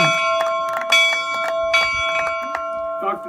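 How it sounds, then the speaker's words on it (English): The Liberty Bell in Philadelphia ringing repeatedly, loud metallic strikes at a steady slow rhythm with long humming overtones between them, with voices faintly underneath. "in Philadelphia, the Liberty Bell will ring again"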